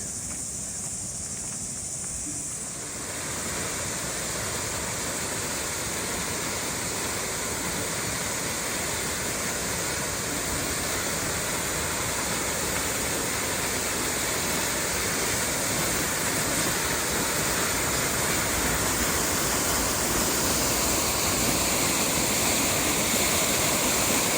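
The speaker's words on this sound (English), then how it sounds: "I can get up to that waterfall I'm hearing" Steady, roaring rush of a waterfall near a reservoir at Te Aroha, New Zealand, during Cyclone Gabrielle, loud and continuous throughout, with a brief quieter moment at the very start before the full wash of water.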